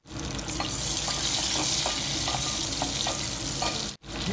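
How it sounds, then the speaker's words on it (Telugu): Crushed garlic cloves, seven or eight of them, dropped into hot oil, giving a loud continuous sizzle close up, with light regular stirring taps throughout and a sudden brief cut near the end. "ఆయిల్ హీట్ అయిపోయింది ముందుగా ఒక ఏడెనిమిది వెల్లుల్లి రమ్మలు దంచింది ఈ విధంగా వేసుకుందాము"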